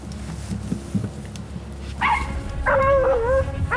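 Hunting dogs chasing a wild boar let out a few scattered barks and yips, moderately close, over rustling background noise.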